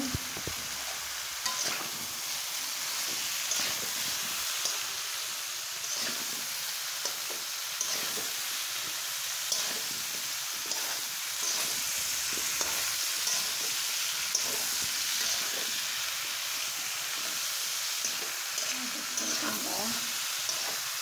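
Eggplant, potato and drumstick pieces fry in hot oil, giving a steady broadband sizzle with scattered stirring clicks and scrapes throughout, close and continuous.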